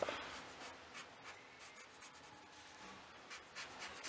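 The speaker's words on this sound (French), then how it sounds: "On va déjà commencer par colorier et après repasser au feutre noir." Felt-tip markers rub softly across paper while colouring in a drawing, giving faint repeated scratchy strokes that are quiet and close, with no talking.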